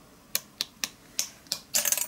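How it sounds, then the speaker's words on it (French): Old IKEA scissors snip through card in five crisp, close cuts spaced evenly, then a quicker rustling flurry as the card is cut in two. "Ça, je vais le couper en deux. Je prends mes vieux ciseaux ici."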